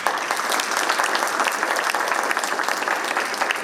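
Steady applause from a crowd welcomes Senator Todd Young of Indiana at a Sri Guru Nanak Dev ji birth anniversary event at the US Capitol, a dense, even clapping roar that holds at full level throughout.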